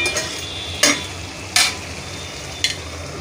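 A spiced chole mixture with whole garam masala being stirred in a pan, with three sharp spoon scrapes standing out over a steady low sizzle, close and with no voices.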